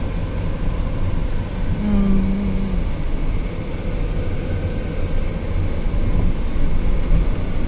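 A vehicle drives along an overgrown unpaved village road on a school bus route, with a steady low rumble and rattle of the cabin and road noise throughout.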